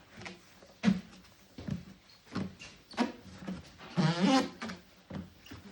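A cloth wipes across a buffed, mirror-polished guitar finish after polishing compound, giving short, sharp squeaks in an uneven rhythm with a longer rubbing burst near the end, close and fairly loud.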